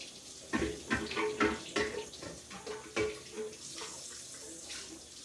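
Tap water running and splashing while the residue-catching back part of a juicer is rinsed in a sink, with uneven bursts and gurgles of flow close by, and no talking.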